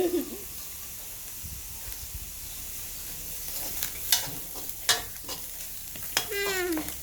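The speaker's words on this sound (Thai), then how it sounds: "เดี๋ยวจะผัดให้มันกรอบๆเลย" Macaroni stir-fried with minced pork in a pan, a continuous hissing sizzle with intermittent scraping stirs that grow busier toward the end, with brief squeaky noises near the start and finish.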